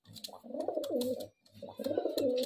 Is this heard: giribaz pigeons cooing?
yes